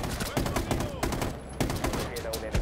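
Rapid automatic gunfire from a light machine gun in the video game Rainbow Six Siege, loud bursts of shots crackling in quick succession with brief gaps, close and sharp throughout.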